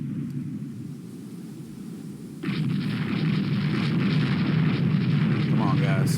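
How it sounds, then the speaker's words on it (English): Battleship fleet gunfire in the naval strategy game Rule the Waves II, a deep rumbling barrage that jumps to a louder, sustained roar of explosions partway through, with someone talking over it. "my entire battleship fleet is present and accounted for and firing on these 2 Rodneys"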